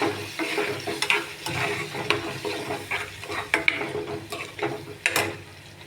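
Thin gravy for stuffed bitter gourd curry, with water just added, is stirred in a sizzling pan, with irregular spoon scrapes and clinks over a steady hiss; no one talks.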